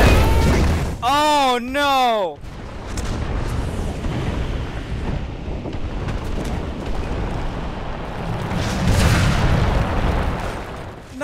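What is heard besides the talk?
gunfire and explosions in War Thunder video game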